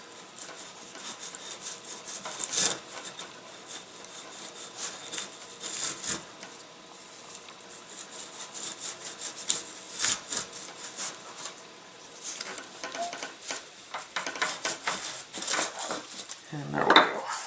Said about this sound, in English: we'll just clean it up with some sanding